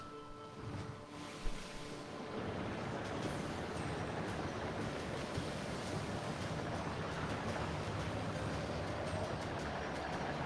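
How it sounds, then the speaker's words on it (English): Choppy ocean water from a stormy sea surges in the VR tabletop game Table of Tales, a broad continuous wash that follows a short, quieter opening and holds steady throughout. "Ooh, choppy water."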